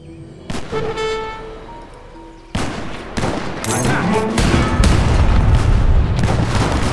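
Cannon fire in the strategy game Age of Empires III: booming blasts and rumbling gunfire volleys build into a continuous loud battle din, with brief horn-like tones and a voice heard early on.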